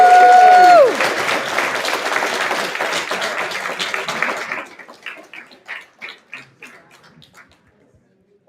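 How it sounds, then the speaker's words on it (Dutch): An audience at an award-style ceremony breaks into applause after a loud musical swell; the clapping is dense at first, then thins into scattered claps that fade out. "Een applaus voor die peetmoeder, Patty Brandt."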